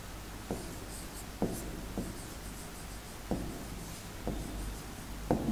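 Hand writing on a board during a fifth-grade maths lesson, with short scratchy marker or chalk strokes in separate bursts at an uneven pace. The strokes sound close and quiet over a steady low hum, and nobody speaks.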